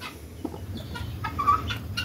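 A hen clucks among her newly hatched chicks, with soft, scattered clucks and faint peeping calls over a low background rumble, fairly close and without talk.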